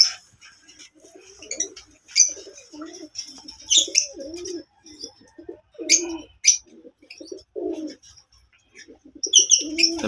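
Fancy pigeons coo in repeated low throaty rolls, close by, while higher chirps and tweets from other birds break in now and then.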